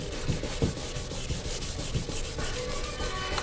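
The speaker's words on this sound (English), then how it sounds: "this really requires some heavy sanding here" Sandpaper rasps hard against a painted motorcycle surface in steady, rapid back-and-forth strokes, close-up and continuous, with no talking.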